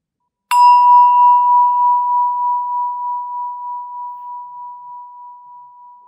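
A meditation bell is struck once after brief silence, its clear pure tone ringing out loud and then slowly fading with a gentle pulsing shimmer over several seconds.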